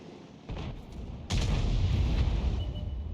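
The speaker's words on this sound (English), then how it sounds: "I think that was a shot that came in from the Arty, and that one definitely stunned him" An artillery shell strike in a World of Tanks-style tank battle game, featuring a Conqueror Gun Carriage: a sharp crack followed by a heavy, sustained boom rumbling loudly to the end, with no talking.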